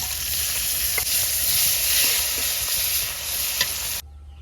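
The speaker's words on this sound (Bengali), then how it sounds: "কপিটা বাগার দিয়ে নিব, তেল দিয়ে দিলাম, পেঁয়াজ রসুন মরিচ এইসব দিয়ে দিলাম।" Onion, garlic and chili tempering in hot oil for a cauliflower dish sizzle loudly and close, with a few sharp utensil scrapes and clicks before the sound cuts off abruptly near the end.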